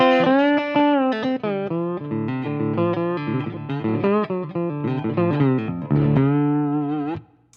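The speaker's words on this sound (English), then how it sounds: "Here's the same thing, just a little bit of room reverb." A guitar phrase through a Tungsten Mosaic amp, miked with a 57 and given a touch of room reverb, sustains steadily for about seven seconds with a short tail at the end.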